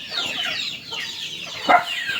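Chickens with colds clucking close by, a busy run of soft cackles with one louder squawk near the end.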